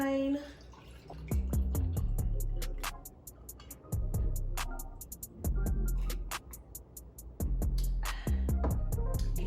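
Wine is poured into a glass, a liquid trickle with drips that comes in several bursts over a soft rhythmic background.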